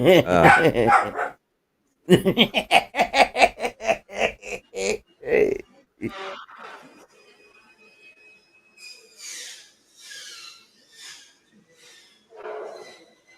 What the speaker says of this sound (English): Lloyd, could you hush those dogs?